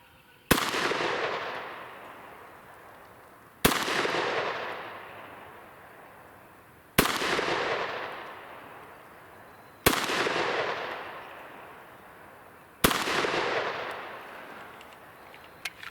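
Five sharp, loud shots from a Springfield XDM 3.8 10mm pistol, fired alone at an outdoor range, evenly spaced about three seconds apart, each followed by a long echoing decay.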